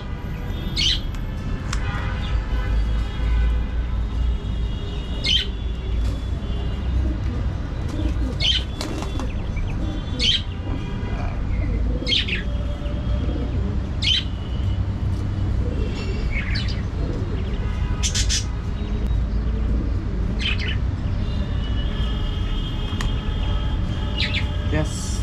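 Pigeons being dosed with deworming medicine in hot weather flap their wings and give short squawks and calls close by, over a constant background hum, with a person talking at times.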